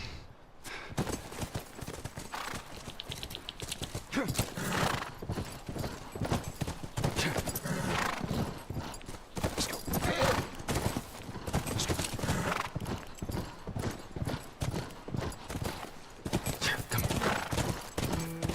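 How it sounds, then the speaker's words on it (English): Horses gallop in The Last of Us game, a steady drumming of hooves with a whinny amid action noise and occasional gunfire, loud and continuous throughout. "Back to the horses."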